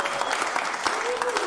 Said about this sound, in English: So a big round of applause for Gun Hill Studios,